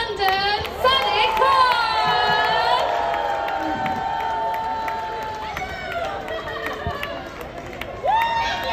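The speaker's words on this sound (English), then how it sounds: "I want you to start roaring. I want you to start clapping." Crowd at a London public event cheering and shouting over a steady background of excited voices, with whoops and calls rising and falling, fairly loud throughout.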